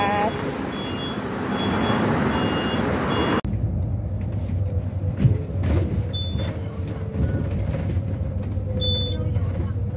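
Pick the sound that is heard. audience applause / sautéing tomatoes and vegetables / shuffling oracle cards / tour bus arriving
tour bus arriving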